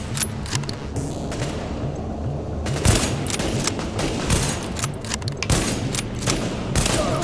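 The player's gun in The Division fires repeated rapid bursts, loud and close, over a busy backdrop of other shots and booms.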